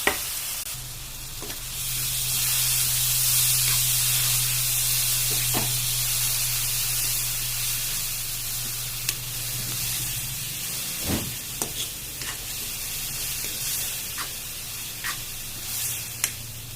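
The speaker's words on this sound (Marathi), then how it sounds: "आणि आता यात टाकून घेऊ आपण भिजलेली मुगाची डाळ" Soaked moong dal sizzles in a hot pan with turmeric and salt, a strong, continuous frying hiss with a low hum. Occasional stirring scrapes and clinks sound over the steady sizzle.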